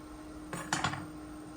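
A lid is set onto a cooking pot of gravy to let it simmer, giving two or three quick, faint metallic clinks in a quiet kitchen.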